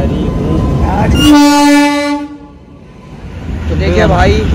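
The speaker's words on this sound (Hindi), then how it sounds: "सामने से एक और ट्रेन आ रही है हमारी पासिंग करते हुए, वो हॉर्न दे देकर सिग्नल दे रही है" A train passing on the opposite track sounds a long, loud horn blast while travelling between Ajmer and Sambhar. The horn rises over the rumble of the moving train, then fades, and the rolling noise returns.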